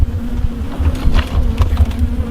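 Agitated honey bees swirl around a beekeeper splitting an angry hive outdoors, a steady close buzz holding throughout with rough, gusty rumbling underneath and no talking.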